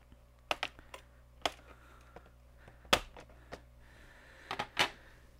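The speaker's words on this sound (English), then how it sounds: "We will need a Phillips screwdriver to spin out the screws." A Phillips screwdriver works screws out of the back cover of a Lenovo ThinkPad L14 Gen 2 laptop, making sparse sharp clicks and small metallic taps at uneven intervals in an otherwise quiet room.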